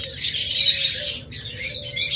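A pair of blue wing pet birds, a local breed, calls in steady high chirps and chatter close by, broken by a brief pause.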